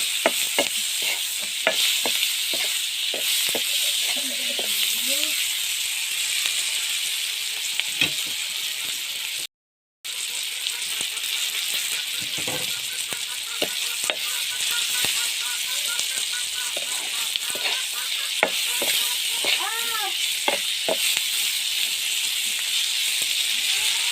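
Silkworm pupae frying in a pan for a village dish, a continuous hissing sizzle with frequent crackles and ticks of spatula stirring, close and steady, broken by a brief dropout midway, with a few faint background sounds but no clear talking.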